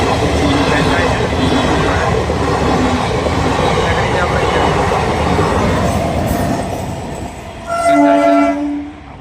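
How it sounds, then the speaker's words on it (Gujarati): A train rumbles steadily past a railway level crossing gate at night, loud and close, its horn sounding out near the end as the roar of wheels eases off, with voices talking around it. "આવી ગઈ છે ટ્રેન જાય છે"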